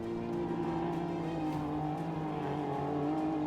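A small SSV off-road vehicle strains over desert dunes at the Morocco Desert Challenge rally, its engine droning steadily and loudly, with slight shifts in pitch as it climbs.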